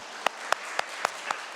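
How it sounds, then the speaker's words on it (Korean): At a Sunday morning service in a Korean air force base church, the congregation claps in slow, evenly spaced unison, about six crisp, distinct claps standing out over a quiet room background. "우리 은혜를 베푸신 하나님께 감사의 박수 올려드리겠습니다."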